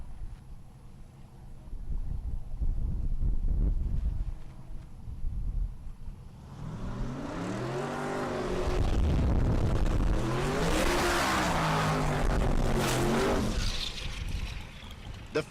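A '55 Chevy and a second-generation Camaro launching side by side at a dragstrip race event, quiet crowd ambience giving way at mid-clip to loud rising engine roar with shifting pitch sweeps, moderately distant.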